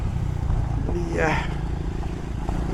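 Motorcycle ridden along a newly built mountain road on the route from Kullu toward Parashar Lake, its engine a steady close drone with a brief rising whine midway.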